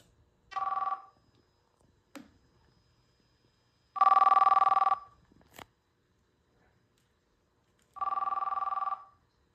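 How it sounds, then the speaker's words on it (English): An incoming-call ringer plays through a car stereo system in three separate bursts, each about a second long, with short quiet gaps between them and a few faint clicks. "When there's an incoming call, the ringer actually comes through the car stereo system."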